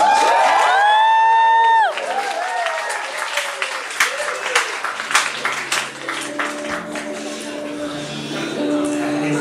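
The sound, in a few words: audience applause and cheering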